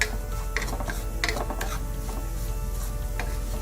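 A spoon stirring spice powders (coriander, poppy seed, turmeric and Kashmiri chili) in a pan for Chettinad-style prawn masala, soft scraping strokes over a low sizzle, close and steady, with no voices.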